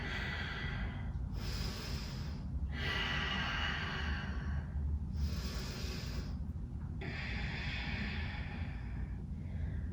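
Slow, deep yoga breaths in a forward fold, heard close and alone: long airy inhales and exhales alternating in a steady rhythm, about four full breaths over the stretch.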